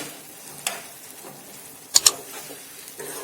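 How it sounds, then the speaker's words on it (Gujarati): Gram flour batter with green chillies is stirred in a pan over a slow to medium flame, giving a soft continuous sizzle and a few sharp scraping clicks of the spoon against the pan. "આપણો આ ચણાનો લોટ થોડોક ઘટ થાય ત્યાં સુધી આપણે તેને આ રીતે હલાવતા મિક્સ કરવાનું છે"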